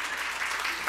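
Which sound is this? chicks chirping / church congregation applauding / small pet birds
church congregation applauding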